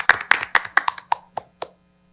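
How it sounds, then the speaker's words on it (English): A single audience member at a panel discussion claps about eight times, sharp and close, the claps slowing and fading out over under two seconds before quiet. "Are you clapping?"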